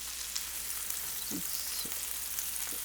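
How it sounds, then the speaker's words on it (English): Pasta sauce bubbles hard in a pot on the stove, boiling over with a steady, soft hiss and a few faint pops and splatters. "It's really boiling too much and it's splattering."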